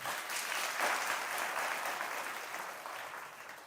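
Sustained clapping from a crowded devotional gathering at Pandokhar Dham, a steady broad wash of many hands at even loudness that slowly tapers toward the end, with no talking over it.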